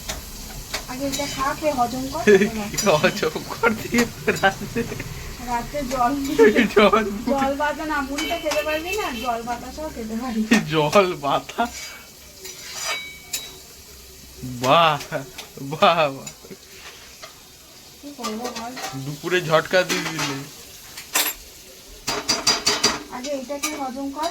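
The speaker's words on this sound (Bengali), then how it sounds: "মাংসটা ধুচ্ছি এখন মশলাটা কষাতে দিয়েছি" Meat and spices sauté in a pan, with steady sizzling, clinks of a stirring utensil against the pan, and people talking throughout over the cooking sounds.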